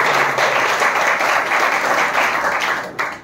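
Church congregation applauds during a Hindi sermon, a loud, steady wash of many hands clapping together that fades slightly near the end.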